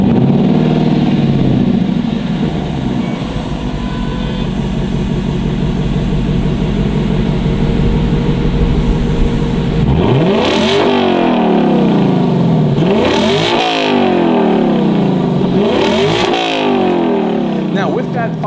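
A 2023 Lexus LC500 coupe with its 5-liter V8 and active sport exhaust idles with a deep rumble, then revs sharply three times, each rev climbing and falling away, loud and close, while someone talks over it.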